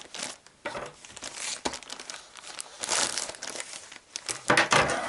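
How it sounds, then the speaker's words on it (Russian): Plastic packaging from an AliExpress parcel holding a bike camera crinkles and rustles in loud, irregular bursts close to the microphone as it is unwrapped, with no talking. "Вот сейчас я его распаковываю."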